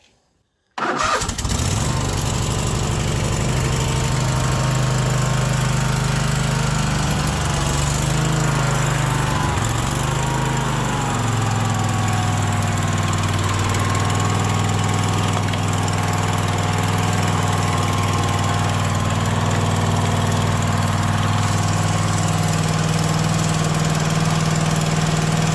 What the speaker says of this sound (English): She started right up. Seemed to be idling just fine.